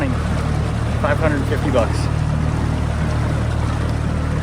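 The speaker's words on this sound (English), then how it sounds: "So I'm in this dinghy with an engine, gas tank, everything out on the water running." A small dinghy outboard engine runs steadily on open water, a continuous low drone beneath someone talking.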